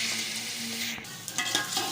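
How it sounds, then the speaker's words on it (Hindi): Beef sizzles steadily in a pan for Kabuli pulao, a close, continuous hiss broken by a few stirring clinks near the end. "बीफ को मैं यहाँ पे फ्राई करूँगी"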